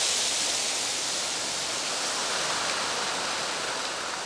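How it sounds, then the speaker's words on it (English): Powerful water rushes through the channels of a Mediterranean garden, a loud, steady broadband roar with no break, close and alone. "the intensity and power of this water that's coursing through the veins of this garden"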